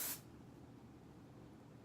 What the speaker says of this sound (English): finish off with some Joico Power Spray hairspray and just a fine mist over it